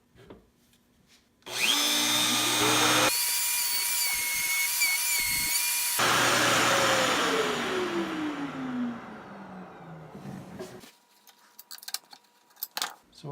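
A power drill bores holes for a homemade jig: the motor spins up with a sharp whine, holds a steady high drone while cutting, then drops in pitch as it winds down, with clinks and handling noises before and after.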